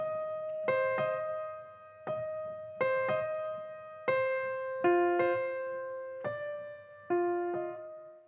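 A single piano line plays a repetitive, rhythmic melody of struck notes, each ringing and decaying before the next, with short pauses between phrases.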